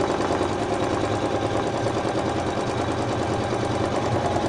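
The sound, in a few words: embroidery machine stitching with thread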